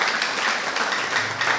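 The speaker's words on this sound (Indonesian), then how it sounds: "Berikan tepuk tangan dulu untuk pembicara kita" A seminar audience gives a brief burst of steady applause that stays dense and even throughout, with no voices over it.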